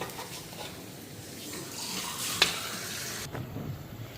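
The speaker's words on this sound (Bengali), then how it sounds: "বড়াগুলি ভাজা নিতেছি" Cabbage fritters sizzle steadily in oil, a continuous crackling hiss with a sharp clink midway and no talking.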